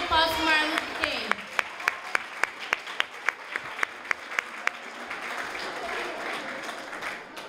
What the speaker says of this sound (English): So let's give a round of applause to Martin Luther King